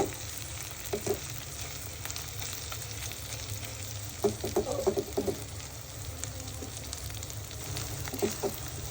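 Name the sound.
beef frying with onions in a pan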